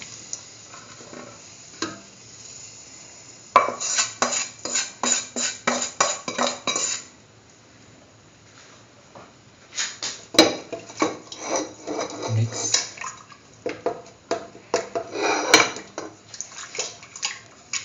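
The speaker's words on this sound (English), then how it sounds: "Mix thoroughly and make sure there are no lumps." Semolina being stirred into milk in a pot at home, with a utensil scraping and clinking against the pot in rapid bursts, loud and close, with pauses between the stirring spells and no talking.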